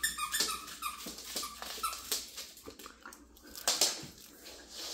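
A dog chews a new toy, producing repeated sharp squeaks in irregular bursts along with snuffling and mouthing sounds close by.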